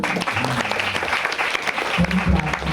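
A crowd at a Christmas church gathering breaks into sustained welcoming applause, dense and continuous, with some voices underneath.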